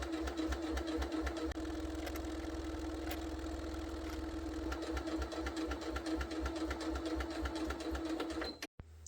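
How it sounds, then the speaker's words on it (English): A sewing machine fitted with a zipper foot stitches along the side of a foldaway fabric shopping bag, a steady close whirring with rapid rhythmic needle clatter lasting several seconds before stopping abruptly. "I'm going to take it over the sewing machine with my zipper foot on"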